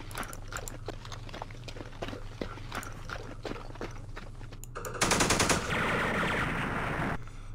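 Campaign Series Vietnam war game: scattered small-arms pops and clatter give way to a loud, sustained burst of rapid machine gun fire that runs for a couple of seconds, alone without voices.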